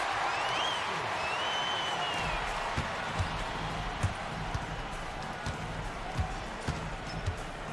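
A home crowd cheers in an eBasketball video game, a broad, sustained roar of applause and cheering with sneaker squeaks and ball bounces thumping at intervals underneath.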